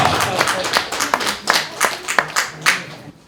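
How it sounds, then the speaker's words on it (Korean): Rhythmic applause rings out at a Buddhist temple ceremony for a signboard unveiling, a fairly small gathering clapping in steady, distinct bursts close by that fade out at the end. "큰 박수로 환영해 주시기 바랍니다."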